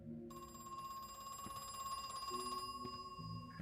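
A payphone in the 90s-style survival horror game Crow Country rings with a bright, steady electronic trill that carries on unbroken and rather faint, with no voices.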